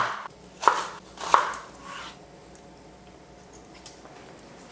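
A knife chops green onions into pieces on a board in a few quick strokes, crisp and close, followed by faint scraping and light taps.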